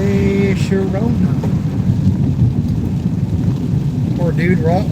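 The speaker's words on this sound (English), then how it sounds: "Poor dude walking in the rain. Ooh, it's coming down hard." Heavy rain pours down on a car during a drive to band rehearsal, a dense steady patter and road rumble inside the cabin, with music playing and snatches of voices over it.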